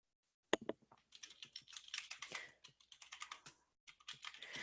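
Notes being typed on a computer keyboard, a quick irregular run of close key clicks after one sharp first tap, with a brief pause near the end before typing resumes.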